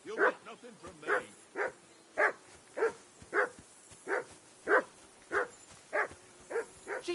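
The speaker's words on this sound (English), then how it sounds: "Jesus, Henry, that barking's driving me nuts." Dog in Kingdom Come Deliverance 2 barks repeatedly in a steady rhythm, about a dozen sharp, mid-distance barks evenly spaced over several seconds.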